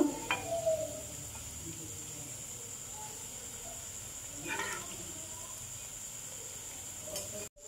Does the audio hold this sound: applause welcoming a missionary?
no